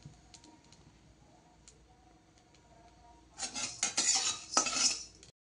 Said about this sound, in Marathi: आणि आता आपले तांदूळ भाजायचं चालू आहे।